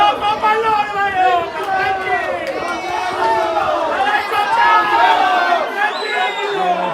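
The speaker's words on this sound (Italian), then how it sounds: "Beccato dai tifosi di casa Lucera" Home football fans at a Lucera match in Sicily jeer a player from the stands, a loud continuous swell of shouting, whistling and raised voices. The crowd noise is steady and close, with a few individual cries standing out.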